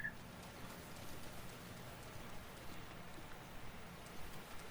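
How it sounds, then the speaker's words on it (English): Steady rain falls in the open world of Zelda Breath of the Wild, an even, continuous hiss of drops with no break and no other clear sounds. "It's raining like a wildfire."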